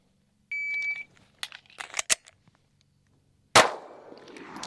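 A beep from a shot timer, then a pause, then several sharp metallic clicks and clacks of pistol handling. A single loud crack follows with a ringing decay as the pistol fires to slide lock, heard at close range without talk.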